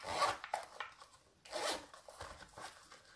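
Zipper on a real leather bag pulled open and closed in several quick bursts, each a bright raspy zip, close by with no talking.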